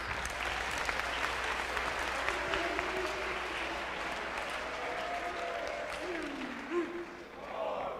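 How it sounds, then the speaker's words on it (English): An audience at a state youth general assembly claps for its representatives, a dense wash of applause that holds steady for several seconds, with a few voices calling out near the end. "Round of applause for our representatives."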